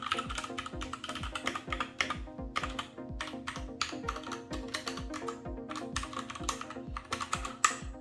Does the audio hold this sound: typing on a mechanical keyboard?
yes